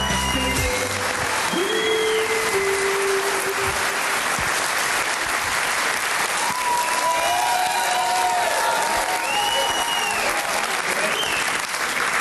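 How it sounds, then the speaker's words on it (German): Audience applause at a stand-up comedy show as a comedian is welcomed on stage, dense sustained clapping from a crowd throughout, with faint whistles or cheers over it. "Riesenapplaus für Martin Klempnow!"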